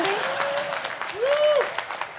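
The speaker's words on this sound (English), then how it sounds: "are you not applauding Carol Burnett turning 90?" An audience applauds Carol Burnett's 90th birthday, a steady wash of clapping over 2 seconds, with a whooping cheer rising through the middle.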